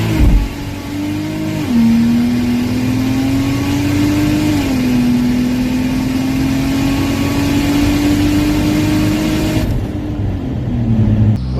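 Turbocharged Chevy Trailblazer with an Atlas engine pulling hard in first gear, a loud, close engine note rising steadily in pitch over several seconds and easing off near the end, with no talk.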